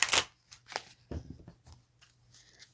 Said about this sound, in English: I'm just going to do a few quick little shuffles here.